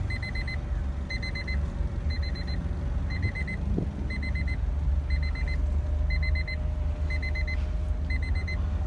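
A 1991 Acura Integra DB1 engine idles with a steady low rumble, while a repeating electronic beep chimes at a regular rhythm over it throughout.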